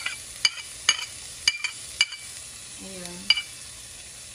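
Garlic and onion frying with chicken in a pan make a light background sizzle, punctuated by several sharp utensil scrapes and taps against the pan, while a voice speaks briefly.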